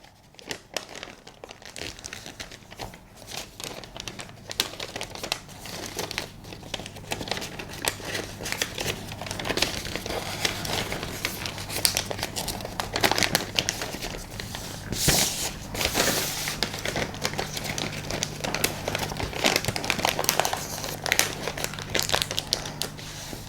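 Paper pattern for a draped shawl collar jacket being folded along the break line, with steady crinkling and rustling throughout and a few sharper crumples, close and fairly quiet.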